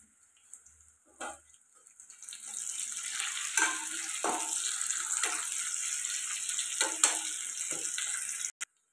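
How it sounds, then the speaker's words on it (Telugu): Onions frying in a pan for a drumstick and moong dal curry make a steady moderate sizzle that starts after two seconds, broken by occasional spoon scrapes and clinks before cutting off near the end. "ఇలా ఫ్రై అవుతున్నాయి కదండి ఉల్లిపాయలు."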